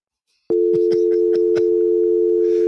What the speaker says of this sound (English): Play the dial tone, Kyle.